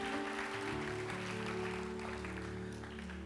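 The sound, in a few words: congregation applauding for God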